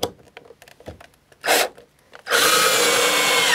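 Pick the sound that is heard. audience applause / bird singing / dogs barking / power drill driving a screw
power drill driving a screw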